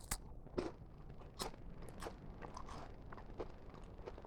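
Quiet, close bites and crunches into a pink wafer biscuit outdoors in a forest, a few sharp crisp snaps followed by softer chewing, with no talking.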